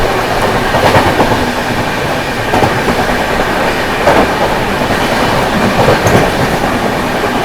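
The 22438 Anand Vihar Terminal–Prayagraj Humsafar Express rushes past at speed while overtaking another train near Aligarh Junction, a loud continuous roar with rhythmic wheel clatter.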